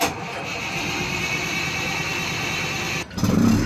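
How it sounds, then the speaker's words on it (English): Diesel engines on a fishing charter boat roar steadily and loudly for about three seconds, then a brief dip gives way to a deeper, pulsing rumble as the engines catch. "Finally, 500 litres of diesel later, they're ready to start the engines."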